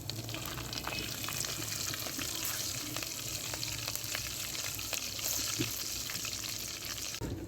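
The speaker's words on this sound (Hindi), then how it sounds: "अदरक लहसुन के पेस्ट को भी अच्छी तरह से भून लेंगे।" Ginger garlic paste frying in a pan with green chilies during aloo katli cooking, a steady close sizzle throughout with faint stirring scrapes, no talking.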